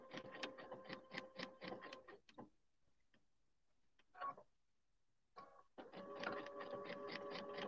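A sewing machine stitches down an appliqué nose with a tight satin stitch, running in rapid rhythmic bursts that stop for a few seconds of quiet handling and start again, close and fairly faint.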